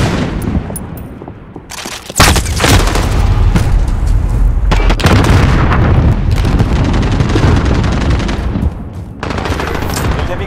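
Grenade blast in Call of Duty: Modern Warfare multiplayer: after a quieter lead-in, a sudden loud explosion, then sustained roaring gunfire, booms and chaotic battle noise at close range.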